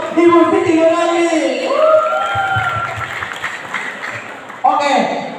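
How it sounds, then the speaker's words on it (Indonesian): A school audience applauds and cheers loudly for a guest at a student literacy event, with a dense burst of clapping and a few shouts fading under an announcer's voice, then rising again briefly near the end. "Ayo berikan tepuk tangan yang meriah untuk Ibu Siti Nurani"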